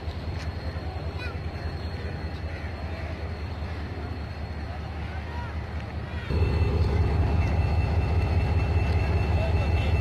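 An oil tanker train's engine idles at Landhi Junction station with a steady, heavy diesel rumble and throb. It grows noticeably louder and stronger partway through and stays close and continuous throughout.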